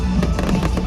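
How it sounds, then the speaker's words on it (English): Fireworks at the Tomorrowland 2023 music festival closing ceremony, a dense crackling burst of pops over a loud booming, crowd-filled background. "the little closing ceremony that they do, which has loads of fireworks"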